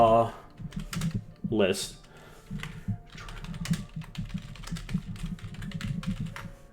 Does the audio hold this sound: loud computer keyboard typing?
yes